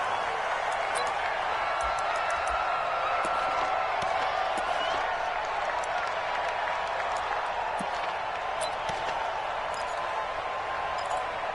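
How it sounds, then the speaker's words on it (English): Stadium crowd noise in an NFL video game, Tennessee Titans versus Jacksonville Jaguars, a steady dense roar with scattered applause and cheers running the whole time, loud and continuous with an announcer-like voice mixed in. "This crowd is ready"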